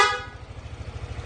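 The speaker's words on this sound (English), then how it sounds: "Sample stock horn, then switch to Bosch Evolution Horn." Stock horn on a Yamaha NMAX scooter: a single short, bright honk up close at the very start, then quickly cut off and left with a low idling motor pulse.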